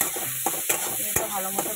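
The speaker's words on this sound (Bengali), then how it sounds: "এটা ভালো মতো ভাজা হোক।" Bitter gourd slices with salt and turmeric fry in a pan, giving a loud, close sizzle broken by several sharp stirring scrapes and clacks of a spatula, with no voices.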